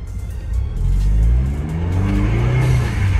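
A Ford EcoBoost car accelerates on snow, its engine rising in a loud, close rev with climbing pitch, easing and building again with no talk over it.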